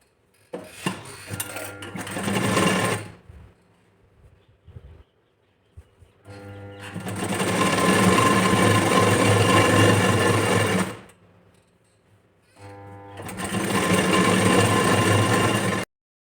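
A sewing machine stitches the lining of a blouse in three loud, close bursts of steady whirring, with quiet pauses between runs.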